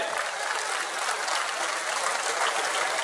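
Steady, dense applause from a large audience at a Tamil political stage event with Naam Tamilar Katchi leader Seeman present, sustained clapping filling the whole stretch without a break.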